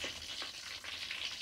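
Tilapia sizzling steadily in hot oil, a dense continuous crackle with faint popping throughout, no voices.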